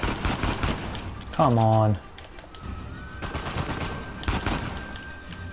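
Gunfire from the video game Uncharted 4 arrives as sharp bursts of shots, with a brief loud tonal blast in the middle and scattered shots afterward, while someone talks briefly over the action.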